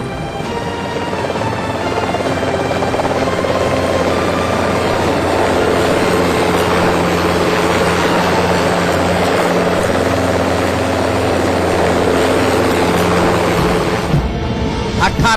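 Helicopters fly over an 18-nation military exercise in India, a loud continuous rotor drone with a steady engine hum that holds throughout before dipping briefly near the end.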